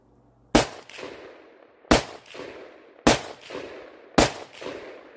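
Four loud, sharp gunshots ring out from a Zastava ZPAP92 AK-47 pistol fitted with a muzzle brake, spaced about a second apart, each with a short echoing tail and no voices.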